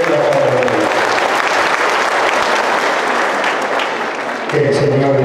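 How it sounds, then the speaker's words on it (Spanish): Loud, dense applause from a crowd at a patronal festival for Our Lady of Guadalupe in Mixquiahuala, sustained throughout, with a voice on a loudspeaker audible at the start and end. "fuerte los aplausos"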